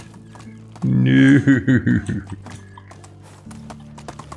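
Horse ridden in the Medieval Dynasty video game, with a loud burst of snorting and whinnying followed by a soft, steady run of hoof clops, while a voice briefly speaks.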